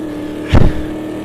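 A standard-spec Corvette race car in Automobilista 2 sweeps past, a brief loud engine surge that rises and fades within about a second over a steady background hum.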